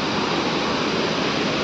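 White river water rushes loudly and continuously beneath a steel bridge over the Rambi Khola, a dense broadband roar with no break.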